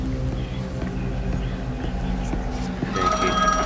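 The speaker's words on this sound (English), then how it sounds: "Oh, phone is ringing." A telephone ringing in an abandoned place in The Medium horror game, a tonal electronic ring that emerges over a steady low ambient rumble near the end.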